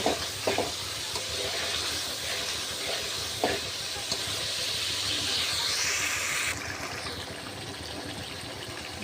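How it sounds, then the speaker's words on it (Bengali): Spices fry and get stirred in a hot pan, a steady loud sizzling hiss with a few spoon knocks against the pan, continuous and close. "সব মশলা দিয়ে ভালোভাবে কষিয়ে নিচ্ছি"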